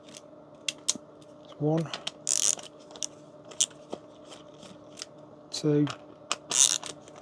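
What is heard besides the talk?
screwdriver removing Phillips screws from Festool radio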